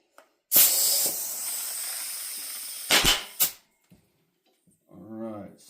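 Air hissing out of an unseated Alienation Blue Label R2 BMX tubeless race tire before sealant is added, a loud sustained hiss for about two seconds, then two short sharp bursts, with a brief voice near the end.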